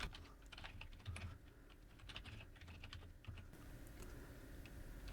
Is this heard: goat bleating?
no